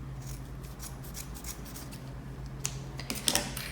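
Scissors snip through excess fabric while an ecobag is sewn, a few quick, crisp cutting clicks near the end following a stretch of quiet rustling and a low steady hum indoors.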